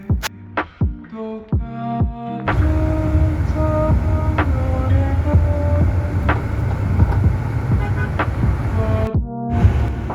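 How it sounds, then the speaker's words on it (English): Car ride through congested Dhaka traffic, with a steady engine and road rumble filling most of the stretch and several sharp horn blasts from nearby vehicles standing out above it. "We arrived safely and now we're going home by car."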